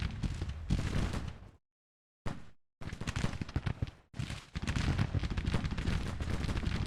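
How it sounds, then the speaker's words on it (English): Concentrated Federal musket fire rolls across a Civil War battlefield in Grand Tactician, dense crackling volleys in bursts, cut by two short silent gaps, then resuming loud and continuous. "good little concentrated fire here from the Federals"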